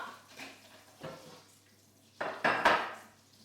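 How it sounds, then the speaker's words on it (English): A baking tray is handled in a home kitchen, with several clattering metallic knocks and scrapes close by that grow louder toward the end, without speech. "Now I've got my tray here."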